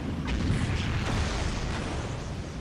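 Explosions from a Dawn of War battle between Ynnari and Adeptus Mechanicus armies merge into a continuous, heavy rumble with faint crackling on top, steady and moderately loud throughout rather than separate distinct booms.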